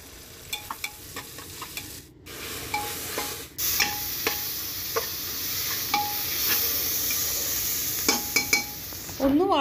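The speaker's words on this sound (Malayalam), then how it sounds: "നമുക്ക് ആദ്യം തന്നെ സവാള വെളിച്ചെണ്ണയിൽ ഒന്ന് വഴറ്റിയെടുക്കണം" Onions sauté in hot coconut oil in a pan, giving a steady sizzle with repeated scraping and stirring clinks of a utensil throughout, close and fairly loud, with no talking.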